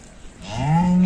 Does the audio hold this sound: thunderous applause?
no